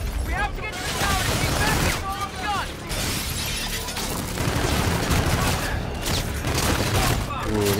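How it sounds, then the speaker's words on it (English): Dense gunfire in a Call of Duty Infinite Warfare battle, with rapid overlapping bursts and crackling shots filling the scene alongside voices. "They're firing on innocent people."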